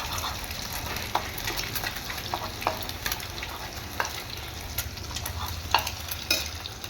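Ingredients for egg fried rice sautéing in a pan make a continuous hissing sizzle with scattered clicks and scrapes from stirring, at a moderate, even level throughout.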